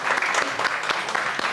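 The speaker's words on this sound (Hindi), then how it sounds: "एक बार फिर से जजेस के लिए जोरदार तालियां" A studio audience claps loudly for the judges at a singing competition, a steady wash of applause with distinct individual claps standing out.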